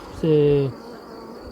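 A single honeybee near a hive gives a short, close buzz lasting about half a second, and a faint voice follows.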